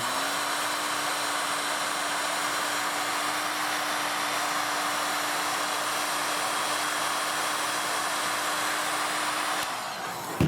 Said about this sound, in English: The heat shrink won't melt, especially with the heat gun, because it's really good heat shrink.